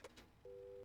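Telephone busy signal from a phone call dialed in the video game Mon Bazou: a steady, clean tone that starts after a short quiet gap with faint clicks and holds continuously to the end, fairly loud and alone.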